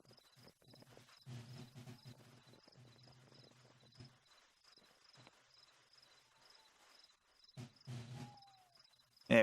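Crickets chirping at night in the war game Holdfast: Nations At War, a faint, steady high chirp running throughout, with occasional low rumbles and soft thuds underneath.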